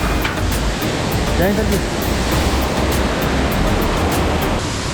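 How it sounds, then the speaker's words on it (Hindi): A strong waterfall roars on the mountain trek from Panjtarani to the holy cave on the Amarnath Yatra, a loud, unbroken rushing wash close by, while someone briefly speaks a greeting over it. "बहुत ही स्ट्रॉन्ग वाटरफॉल है ये पीछे वाला"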